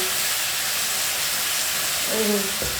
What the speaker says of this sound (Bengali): এবার আমি মাশরুমটা এই দেখুন দিয়ে দিচ্ছি তেলের মধ্যে এটা ভেজে নেবো